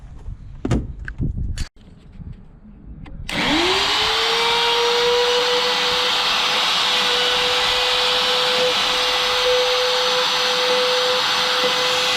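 A power tool, likely a router, recuts a hinge mortise for square-edge hinges on a door, spinning up loudly after a few knocks and holding a steady, close whine to the end.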